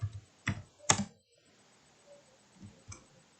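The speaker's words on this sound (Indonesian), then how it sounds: "saya ketik kembali rumusnya R mod" A few soft keyboard keystrokes while typing a formula on a computer, with two quick clicks, a pause and two faint later taps, close and quiet.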